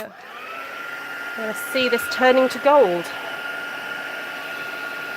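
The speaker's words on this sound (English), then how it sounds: "I'm going to have to turn on my heat gun" A heat gun blows with a steady whooshing roar and a faint high whine throughout, while someone speaks briefly over it.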